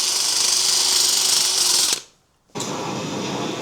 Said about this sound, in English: So a quick clean up with a wire brush.